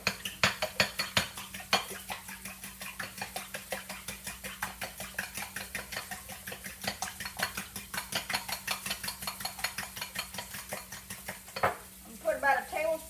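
Fresh eggs are beaten in a bowl with a utensil, a fast steady rhythm of close, light clinking taps against the bowl continuing throughout, with a short pause and clatter near the end.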